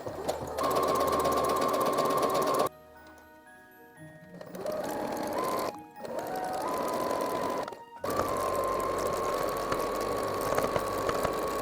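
A sewing machine stitches fabric for a Dementor costume with a close, steady mechanical whir in several runs, separated by short pauses as the fabric is repositioned.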